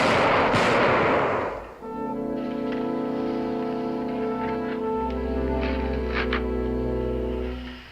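A musket volley erupts in a loud blast that dies away after about two seconds. Sustained dramatic orchestral music then takes over.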